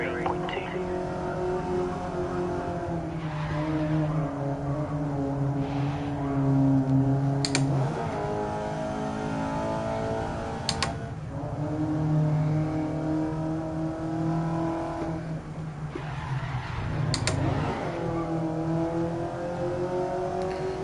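A race car engine in the video game GRID Legends, played with a wheel, drones and rises in pitch through repeated accelerations and gear changes, steady and close, with a voice talking over it.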